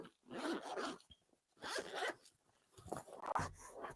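A zipper on a Dwarf Lab 3 tote bag being pulled open in three separate close, scratchy bursts with short pauses between them.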